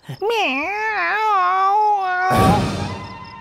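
A cat in a comedy scene from a Hindi-dubbed film lets out a long, wavering, loud meow close by, followed by a burst of noise and rustling as it ends.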